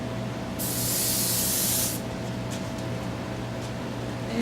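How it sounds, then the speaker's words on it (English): An airbrush being cleaned out sprays a single steady hiss of air for about a second and a half, followed by faint clicks over a low background hum. "And clean out the airbrush."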